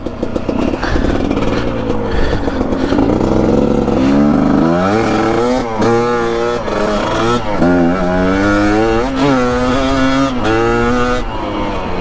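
A 2021.5 GPX TSE250R motorcycle on a test ride, its engine loud and close, revving up and dropping in pitch as it shifts through several gears in a row.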